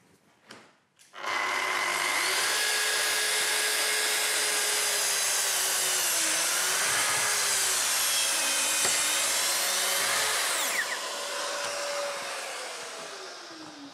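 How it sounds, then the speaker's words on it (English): A plunge saw set to maximum cutting depth and speed whines at a high, steady pitch through a long plunge cut into wood, starting abruptly and sustained loud and close before easing slightly at the end. "set the saw with maximum cutting depth and speed for the plunge cut"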